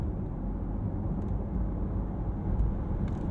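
Porsche Taycan RWD electric car accelerating hard from inside the cabin, a steady loud low rumble of road and drivetrain noise rising slightly near the end, with no speech.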